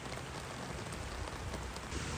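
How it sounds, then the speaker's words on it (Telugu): Rain falls steadily on a surface around green fields and a village stream, a dense, even hiss of countless drops, close and continuous with nothing else standing out. "ప్రతి వాన చినుకు సౌండు"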